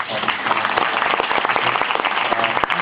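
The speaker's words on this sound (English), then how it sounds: "Please give him a round of applause." Applause for a guest at a post-screening dialogue at an animation festival, a full room of hands clapping steadily at moderate loudness, with sharper individual claps standing out near the end.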